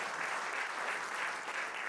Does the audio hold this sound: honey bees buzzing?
no